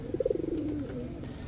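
A male Chuachandan pigeon gives a single close, low coo with a quick pulsing start that trails off softly, alone with no talk.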